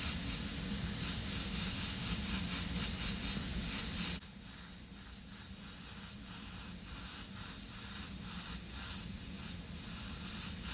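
An airbrush sprays white paint thinned with Createx 4021 reducer, making a steady close hiss. The hiss is louder for the first four seconds, then drops to a softer, continuous spray.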